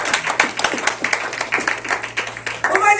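A church congregation at a Sunday service claps in quick, uneven bursts, hands slapping loudly and irregularly over a low steady hum, with some voices mixed in.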